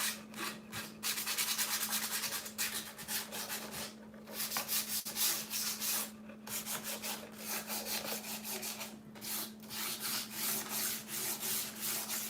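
Steady rubbing sandpaper strokes scuff a painted wooden step stool to distress its finish, a continuous close-up scraping with brief pauses and a faint steady hum beneath.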